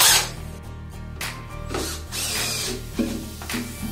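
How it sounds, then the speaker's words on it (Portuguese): A power drill bores a hole for a metal corner bracket used to mount a cabinet, a close steady motor whine with pitch dips as the bit bites and loads up, no speech. "Agora só para furar aqui."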